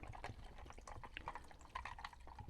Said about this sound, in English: we're going to pour that right in